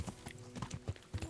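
Horse hooves clip-clop in the Kingdom Come: Deliverance video game, a quick, uneven run of soft thuds at moderate distance that sounds like a horse moving over ground, with no talking over it.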